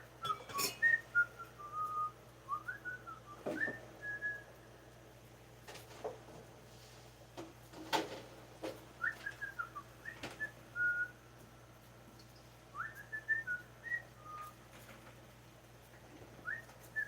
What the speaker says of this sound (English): You'll probably hear me whistling.